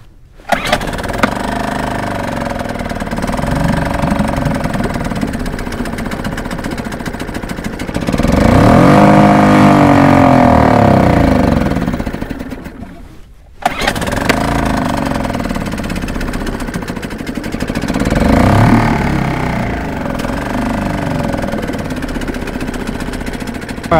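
A small motor on a motorized fishing kayak, long in storage, runs loud and rough close by, surging to a louder burst mid-way, cutting out briefly, then restarting and running on with uneven revving.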